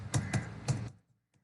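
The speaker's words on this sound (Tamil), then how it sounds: "ஸ்டூடெண்ட் ஐடியை வந்து நான் டைப் பண்ணி கொள்கிறேன்" Computer keyboard typing while entering student details into an Access database form, a quick run of three sharp key clacks, then quiet with a couple of faint taps.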